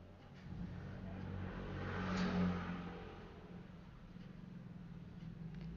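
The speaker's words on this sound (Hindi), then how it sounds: "अब इसको सीधा करेंगे और ऊपर के साइड से सिलाई लगा देंगे।" A sewing machine stitches a topstitch seam along a blouse belt, a steady low motor whir running continuously and swelling slightly in the middle, with no talking.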